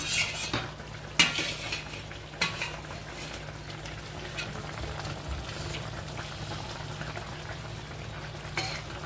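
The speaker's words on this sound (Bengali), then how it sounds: "এইবারে আমি দিয়ে দেব ভাজা বেগুনগুলো" Fried eggplant pieces going into a simmering fish curry, with a spoon stirring and scraping the pot in steady strokes and a few sharper clinks against the metal, close and moderately loud, with no talking.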